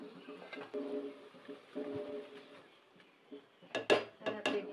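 Rice is stirred in a pot while cooking zarda pulao, the sweet Eid-style rice, with soft scraping and clinking against the pot that grows brief and sharper near the end.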